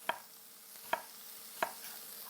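A knife chops onions on a cutting board in three crisp, evenly spaced strikes. They are quiet and close, with no talking.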